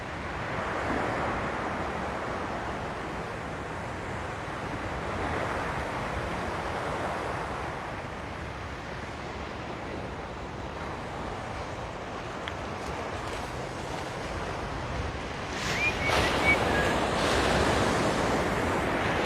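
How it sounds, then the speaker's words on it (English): Continuous rolling surf at Waikiki Beach on Oahu at sunrise, broad and steady with gentle swells in loudness, some wind noise on the microphone and a slightly louder surge toward the end, no voices. "Now you may be able to see a little bit more of the waves coming in."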